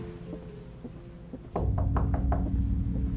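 A series of four sharp knocks on a door in the horror game A Little Too Friendly, evenly spaced and loud, over a steady low background hum with no talking.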